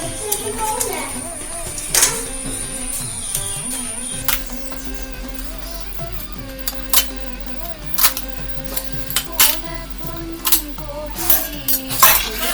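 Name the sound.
adding ada rice flakes into thickened milk for palada payasam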